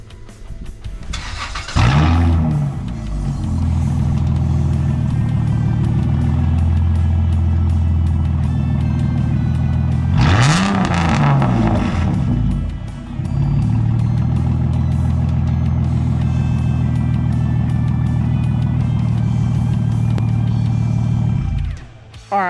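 Dodge Intrepid with freshly welded exhaust tips starts up, revs hard twice with a rising roar, then settles into a steady, loud idle, heard close and alone.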